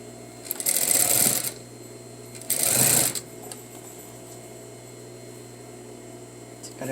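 Sewing machine stitching an all-in-one facing on a garment in two short, rapid bursts of about a second each, close and loud, with a quiet hum between them.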